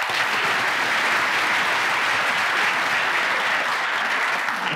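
A theatre audience claps in sustained, dense applause, loud and close, holding an even level throughout with no break or voices on top.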